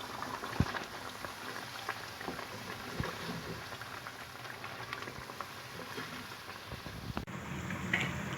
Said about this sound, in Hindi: और अब इसको अच्छी तरह से मैं भून लूँगी।